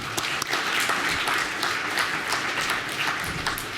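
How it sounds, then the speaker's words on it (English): Audience applause at an aviation conference session on pilot recruiting, a steady wash of clapping from a room of listeners that holds for several seconds without talk. "If no, then we give Dean another round of applause."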